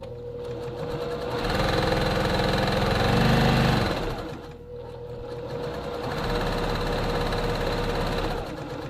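A sewing machine stitching a dart in fabric for a men's classic vest, a steady close motor hum with rapid needle chatter in two runs separated by a brief slowdown.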